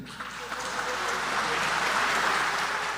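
Democratic Party lawmakers in the National Assembly applaud at the end of a party leader's negotiating-group speech. The sustained, moderately loud clapping from many hands fills the room.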